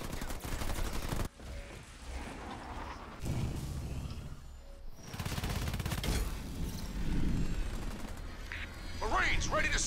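Video game battle with marines taking fire from enemy ground forces: bursts of gunfire mixed with bleating, quacking-like effects and game voice lines, busy and moderately loud throughout.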